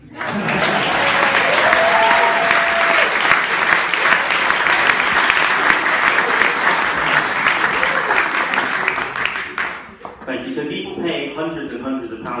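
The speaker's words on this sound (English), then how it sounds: "I don't think that was enough clapping." Loud, sustained applause from an audience after a children's skit, dense steady clapping for about ten seconds before it thins out, with voices emerging at the end.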